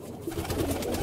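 Kasuri pigeons kept in a home loft coo in soft, low, rolling bursts close by, the murmuring growing slightly louder toward the end with no voices.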